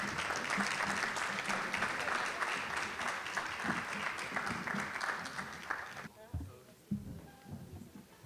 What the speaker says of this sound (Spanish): Los recibimos con un cálido aplauso